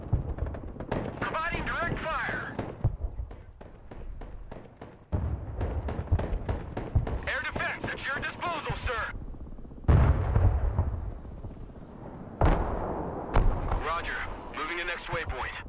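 Artillery in the Broken Arrow war game fires in repeated heavy booms mixed with rapid gunfire bursts that roll on continuously, while radio-style voices talk over the battle.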